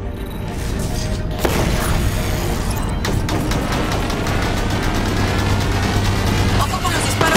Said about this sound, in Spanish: ¡Ojo con los disparos de las torretas!